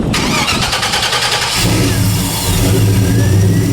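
A GT350 Mustang engine cranks with a rapid starter whir, catches after about a second and a half, then settles into a loud, close, throbbing idle.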